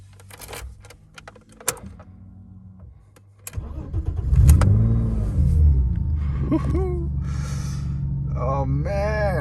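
BMW E30 engine starting after months of sitting: a few clicks and cabin noises, then the starter cranks and the engine catches, settling into a loud, steady close-up idle with a voice reacting.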